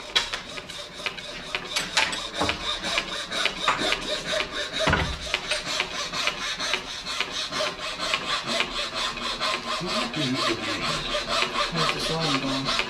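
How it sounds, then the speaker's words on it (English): Hand saw cutting wood in a cabinet maker's workshop, a steady back-and-forth rasp of rapid, even strokes, close and continuous, with a few knocks and scrapes in between and no talking. "How's the sawing going?"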